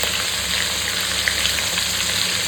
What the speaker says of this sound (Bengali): খুব করে সবকটা চিংড়ি ভাজতে হবে